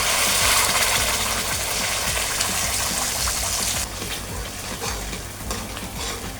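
Ground masala fries in oil in a kadhai, making a loud, close, continuous sizzle with stirring scrapes, easing slightly partway through.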